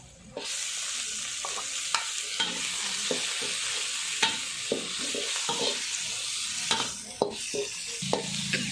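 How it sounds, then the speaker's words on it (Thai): Meat hitting hot oil with golden fried garlic and chili for Thai kaphrao over rice: a loud, steady sizzle runs throughout, broken by frequent sharp spatula scrapes and taps against the pan. "เมื่อผัดกระเทียมเหลืองแล้วนะคะ ให้ใส่เนื้อสัตว์ลงไปค่ะ"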